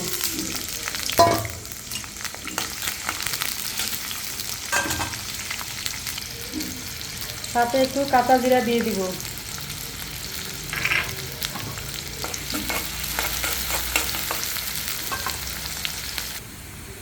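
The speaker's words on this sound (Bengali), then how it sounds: "এখন আমি মরিচ পেঁয়াজগুলো দিয়ে দিব ভাজার জন্য" Chillies and onions sizzle in hot oil in a wok, with scraping stirs and a brief clatter partway through; a voice talks softly now and then over the steady frying.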